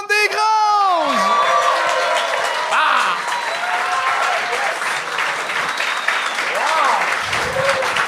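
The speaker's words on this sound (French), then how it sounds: "un tonnerre d'applaudissements pour Charles-Antoine Desgranges!" Studio audience on a TV gong show erupts in loud sustained applause with cheers and whoops, opening with a shouted cry and holding steady throughout.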